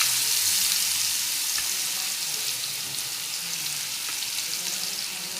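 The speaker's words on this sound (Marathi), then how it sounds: "त्यानंतर कांदा परतून घेऊ आपण" Onion sautés in oil with mustard seeds and cumin, giving a continuous, even sizzle and hiss close by, with faint spoon movement now and then and no talking.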